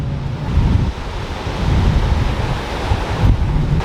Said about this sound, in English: So the waves, watch it, it will crash over and you get drenched in foam.